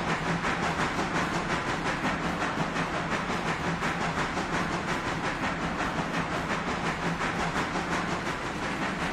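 A steam locomotive in the railway video game Railroader rolling steadily along the track, a continuous rhythmic clatter and chuffing hiss at constant volume throughout.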